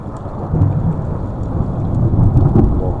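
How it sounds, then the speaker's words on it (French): A thunderstorm fills the space with loud, continuous heavy rain and deep rolling thunder rumbling steadily throughout, dense and close with no voices. "c'est l'orage qui m'a réveillé, il y a des boules de feu"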